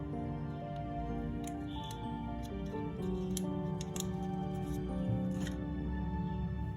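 Scissors snip open a wet and dry wipes packet from a mobile tempered glass screen protector kit, giving a few small crisp clicks and cuts over a steady, droning tonal background.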